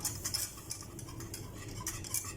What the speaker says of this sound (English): You'll have to keep on stirring until it's thick to the consistency that you want, but don't let it burn.